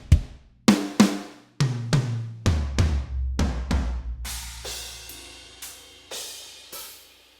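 A drum kit plays alone, with sharp booming drum hits and crashing cymbals in a slow, spaced pattern, each stroke ringing out before the next.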